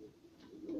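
Adana diving pigeons cooing nearby, a low soft throaty coo that swells louder toward the end, heard alone without talk.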